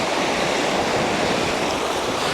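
Sea water surges in at high tide along the shore, a dense, continuous wash of surf and wind noise filling the scene loudly and evenly with no speech.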